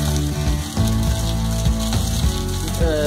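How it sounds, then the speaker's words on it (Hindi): Green chili peppers frying in a pan, a continuous loud close sizzle with faint clinks of a utensil, no talk. "इसमें जो हमारी मिर्ची है थोड़ी थोड़ी पक गई है"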